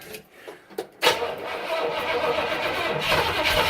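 An old Holden HZ engine cranks at about one second after a quiet start, then keeps turning over in a steady, loud, rough churn for the rest of the short stretch, with no talk over it.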